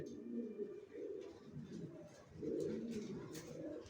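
Young racer pigeons coo in low, throaty, overlapping calls close by, rising and falling in soft repeated rolls with faint chirps above.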